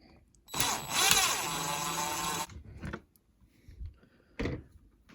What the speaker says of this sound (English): I'm just going to go ahead and use my drill to take that out to make it quicker